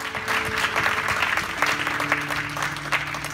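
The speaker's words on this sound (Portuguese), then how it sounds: "Aplauda ao Senhor" Worshippers in a church applaud the Lord, a sustained wash of many hands clapping at moderate loudness, with a faint steady tone humming underneath.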